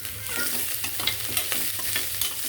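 Curry leaves and chopped onion sizzle in hot oil in a pan, a close, steady frying hiss with occasional stirring scrapes and no talking.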